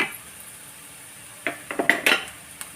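Grated coconut for fish puttu sautéed in a pan, heard as a few scattered scrapes and clinks of a utensil against the metal pan after a quiet start, fairly close, with no talk.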